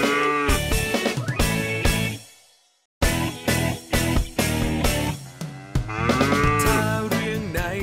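Dairy cow mooing close by: several long, loud, tonal moos, one trailing off into a brief silence before more calls follow, with no talk over them.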